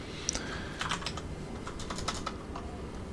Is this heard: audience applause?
no